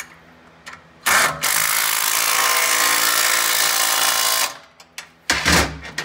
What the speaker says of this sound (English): I will snug them up by using the small impact.